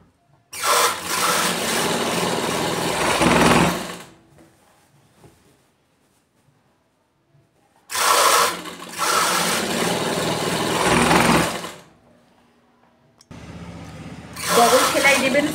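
A sewing machine runs stitching a nightie seam, three long bursts of rapid whirring mechanical stitching, each lasting several seconds, separated by quiet pauses, close and loud.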